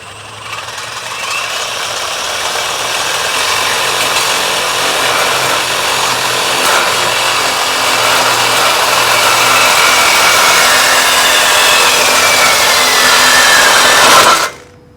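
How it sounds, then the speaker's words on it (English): A power saw cuts through metal just ahead of a weld, a loud, steady, harsh grinding roar that runs nearly unbroken for about fourteen seconds before stopping abruptly. "What I'm gonna do is I'm just gonna go right here and cut it right before the weld."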